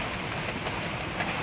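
Rain falls during a typhoon storm as a steady, dense hiss of drops on surfaces, constant and fairly loud throughout, with no voices.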